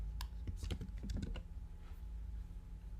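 A quick run of computer keyboard keystrokes at close range, a dozen or so clicks in about a second over a steady low hum, then only the hum.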